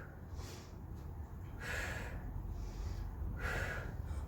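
Forceful breathing during a gym workout, two loud exhale-inhale cycles with hissing breath through the nose and mouth, close and steady, no talking.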